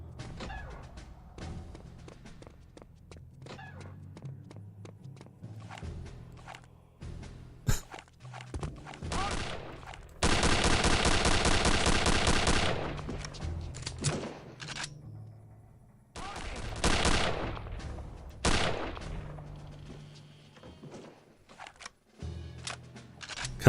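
Gunfire from the shooter game Return to Castle Wolfenstein, with loud sustained automatic bursts and scattered single shots among footsteps and thuds, ending in a heavy volley.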